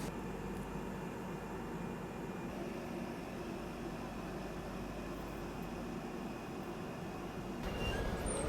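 A passenger train pulling out and rolling along the rails, a steady low rumble of wheels and carriage noise heard from inside, fairly quiet and unbroken, with a faint squeal near the end.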